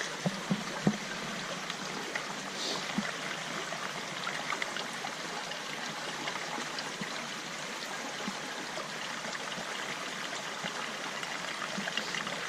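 Water trickles steadily and softly through a filter on the Appalachian Trail, a continuous gentle flow with no voices.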